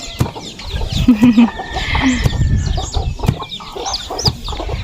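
Chickens cluck and call repeatedly around a quiet village, with a rooster-like call among them, fairly close and loud, over scattered background noises.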